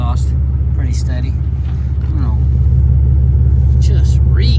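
The exhaust of a 2022 Ram 3500 with a rebuilt engine and new cam idles in a steady, loud, low drone up close while someone talks over it.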